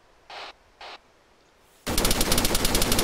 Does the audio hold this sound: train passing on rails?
no